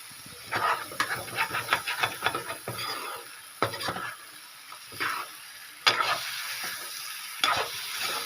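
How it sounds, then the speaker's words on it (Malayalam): Food fries in coconut oil with a steady hiss and sizzle while a utensil stirs and scrapes the pan in repeated bursts, close and moderately loud. "വെറും വെളിച്ചെണ്ണയിലാണ് ഇത് പൊരിയുന്നത്."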